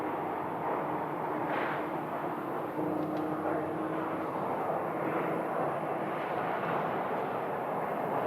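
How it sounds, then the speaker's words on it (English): A Gulfstream jet at Phoenix airport gives a steady, broad engine roar at moderate distance, with a low rumbling whine that holds evenly throughout. "there's the Gulfstream right there"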